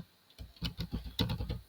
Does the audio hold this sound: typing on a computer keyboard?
yes